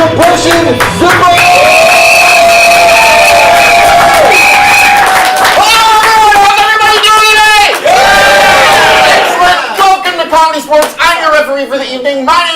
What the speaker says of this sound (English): now please give a huge round of applause for your referee, Eric Child Compression Zumba.